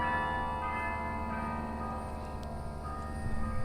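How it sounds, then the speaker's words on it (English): Church bells ring faintly in the distance on the Florida coast, a steady sustained tonal hum of overlapping bell tones under quiet outdoor ambience. "We got church bells here, but carry on."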